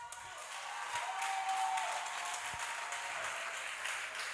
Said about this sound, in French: On va applaudir encore pour le maire.